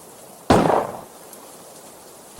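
A single sharp, loud gunshot-like bang breaks a quiet room and fades quickly.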